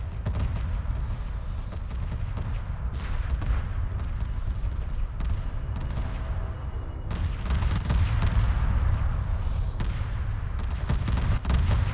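Laser corvettes fire on a carrier in a Homeworld Remastered 2v2 space battle: dense, rapid crackling bursts and booming impacts roll continuously like an artillery barrage, loud and sustained without letup.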